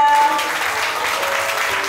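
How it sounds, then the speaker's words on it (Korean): Audience applause at an invited meeting and forum hall, a steady dense wash of many hands clapping that stays fairly loud and even throughout, with no speech over it. "큰 박수 부탁드립니다"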